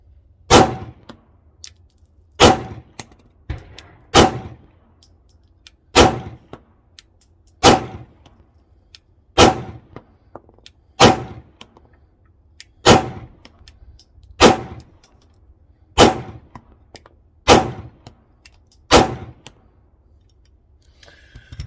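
A SAR9 handgun fires 115 grain PMC ammunition at a range: about a dozen sharp, loud shots at an even pace, each followed by a brief ringing decay, with no voices.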